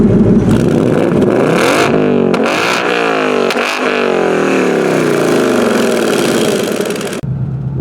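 A 2024 Ford Mustang GT with a six-speed manual revs hard and loud, the exhaust note sweeping up and down through several climbing pulls before cutting off abruptly near the end.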